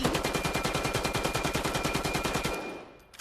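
UMP submachine gun firing full auto in the VAIL VR video game, a rapid even burst of about thirty shots over two and a half seconds, loud and close, then a short fading tail.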